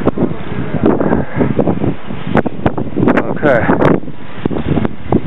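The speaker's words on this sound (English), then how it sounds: "Oh, the wind's blowing crazy." Strong wind gusting through a street during the 2013 blizzard in Worcester, Massachusetts, a steady buffeting roar on the microphone underneath near, continuous talking throughout.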